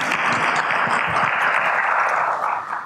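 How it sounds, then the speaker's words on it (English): The audience at a business summit panel in Ghana gives a sustained round of dense clapping that holds steady and then starts to thin out at the very end. "Another round of applause, please, for our last speaker."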